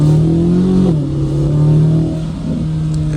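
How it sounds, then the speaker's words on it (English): A car's exhaust in touring mode hums steadily while accelerating and shifts pitch through the gears. The sound is loud and close, with no talking over it. "Yeah, that's touring mode exhaust."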